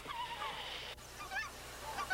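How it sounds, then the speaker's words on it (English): Endangered Aleutian Canada geese, a small relative of the common Canada goose, honk at a wildlife refuge in Alaska, giving several faint, scattered calls from a distance over a steady outdoor background. "The Refuge's greatest success was bringing back the endangered Aleutian Canada goose."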